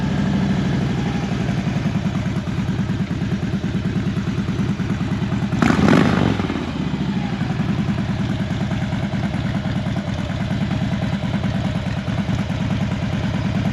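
A 2021 Harley-Davidson Road Glide in Billiard Red runs at a steady idle, a loud, even pulsing engine rumble with a brief clattering burst midway and no talk.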